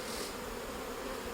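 Honeybees buzz at an open hive during comb replacement, a dense continuous drone close by with no voices.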